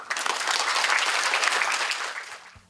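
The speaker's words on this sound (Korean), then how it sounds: "여러분 박수로 환영해 주십시오." Dense, steady applause from a forum audience welcomes a research presenter at a policy symposium on Hwaseong special city, holding strong for a couple of seconds before thinning out.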